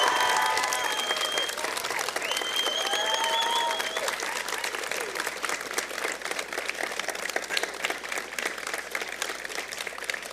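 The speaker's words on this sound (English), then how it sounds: "I'd like the graduates to give a warm round of applause to thank their support network that's here today" Graduates at a university convocation ceremony give a warm round of applause for their families and supporters, a large crowd clapping steadily and loudly throughout, thinning slightly toward the end.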